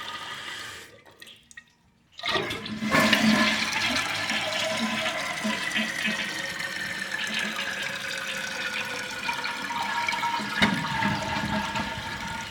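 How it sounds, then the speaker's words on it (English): A toilet flushing with its tank adjusted to the maximum water setting: after a short pause, a loud, close rush of water surges and churns steadily for about ten seconds with no one speaking. "I prefer to use a little bit more water than less, so that it's most likely to flush"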